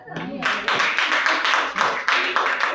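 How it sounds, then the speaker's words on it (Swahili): A church congregation claps hands together in steady rhythmic bursts, loud and close, several claps per second over a brief run with a faint voice at the start. "Ayapiga makofi"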